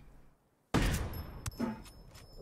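Gunfire in the video game Ghost Recon Wildlands: after a quiet moment, a sudden loud shot lands with a ringing tail, followed by several sharper, quicker shots.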